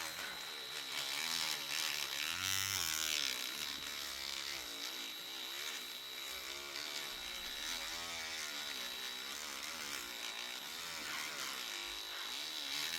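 A power polisher works over a car's painted body panels, giving a steady, continuous high-pitched whine with a constant buzzy drone that holds even throughout, close to the microphone, with no talk over it.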